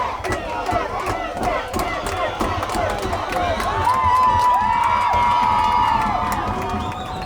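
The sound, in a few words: crowd getting loud at a high school football game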